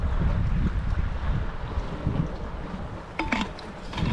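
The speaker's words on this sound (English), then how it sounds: "And that wind is making it quite difficult." Steady wind buffets the microphone outdoors on a rocky shoreline during a rock fishing trip while an egg and cheese cook, a continuous rushing roar with a brief brighter flutter near the end.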